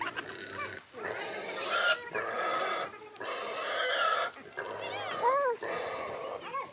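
Pigs grunting and squealing during a slaughter amid a noisy, crowded scene with people talking over them throughout.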